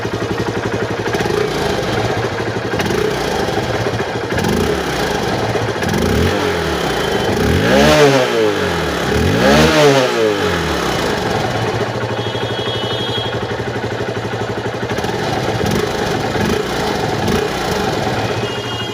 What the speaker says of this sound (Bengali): অনেক স্মুথ এবং নতুনের মতো সাউন্ড আছে অর্থাৎ ইঞ্জিনটা ভালো আছে